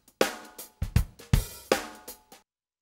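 Drum beat run through iZotope Trash distortion, a short pattern of crunchy, saturated kick and snare hits, about six punchy strikes over two seconds, then silence.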